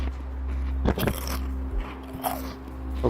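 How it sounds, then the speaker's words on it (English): Crunchy chewing of chips close to a microphone in VRChat, a few crisp bites and munching crackles over a steady low hum. "Me as someone who has sensitivity to chewing noises"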